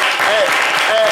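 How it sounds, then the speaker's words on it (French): Brief burst of applause from a studio audience on a French-language slam radio show, dense clapping throughout, with faint voices over it. "Les amis, applaudissez pour Gonzagueville."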